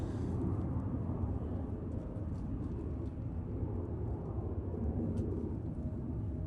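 A blue KLM airliner passes the control tower at Manchester Airport, its engines giving a steady, broad roar that holds at an even level throughout, with no talk.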